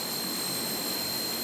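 A steady, even roar comes from the engines of an Atlantique II maritime patrol aircraft flying a surveillance mission over the Malian desert, heard close and constant with no voices.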